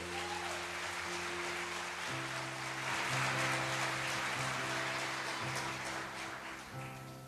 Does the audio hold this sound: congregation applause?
yes